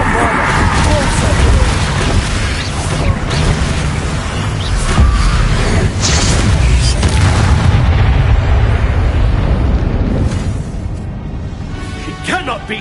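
Booming Bombarda spell blasts in Hogwarts Legacy go off amid chaotic combat, loud deep explosions and crackling bursts packed together, while voices shout over the fighting.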